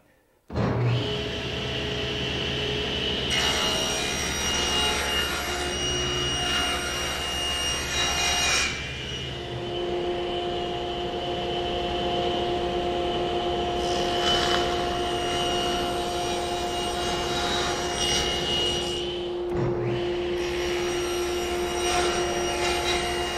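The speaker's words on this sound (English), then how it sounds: "Now I'll go ahead and start ripping and cross-cutting each of the pieces for the jig." A power saw rips and cross-cuts hardwood pieces for a router mortising jig, a loud steady whining drone with rising cut noise during several passes, close and continuous without speech.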